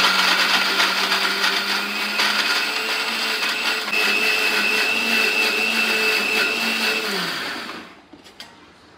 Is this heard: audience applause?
no